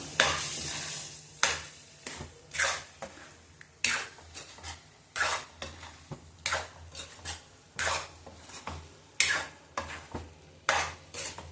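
Shallow-fried soybean chunks stirred into bubbling gravy in a pan make rhythmic wet scraping strokes, each a short burst over a faint simmer, repeated steadily and close by.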